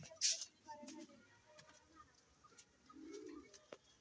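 Pigeons in a home loft give soft low coos, two or three faint rounds against a quiet background with occasional light chirps and rustles.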